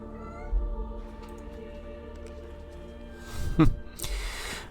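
A pet cat meows while playing with a toy indoors, a short cry near the end of a fairly quiet stretch with low background hum and faint rustling.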